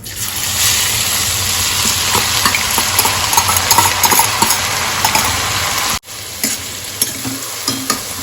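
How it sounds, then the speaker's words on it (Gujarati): Onions frying in oil for Mehsana-style tuver totha produce a loud, dense, continuous sizzle with quick stirring clicks; it cuts off briefly, then resumes quieter with sparse spoon taps. "ડુંગળી નાખી દઈશું હવે અંદર"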